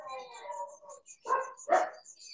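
Dogs barking in two sharp bursts after a stretch of whining, close and moderately loud, heard through an online call with a thin high tone behind.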